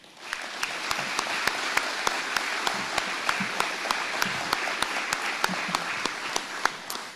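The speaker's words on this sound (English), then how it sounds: "So please give him a round of applause." Audience applause at an Army depot change of command ceremony, a steady wash of clapping from a seated crowd with regular sharper claps standing out near the microphone, continuous for the whole stretch.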